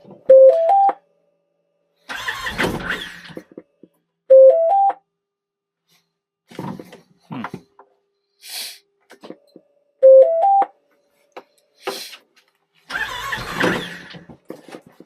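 An engine in the cold cranks in a few short, strained bursts that fail to catch, between repeated rising electronic chimes and quiet gaps with small clicks.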